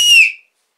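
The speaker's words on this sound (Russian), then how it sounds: "Также я взял свисток" A single short, shrill whistle blast, loud and close, lasting under half a second before cutting off into silence.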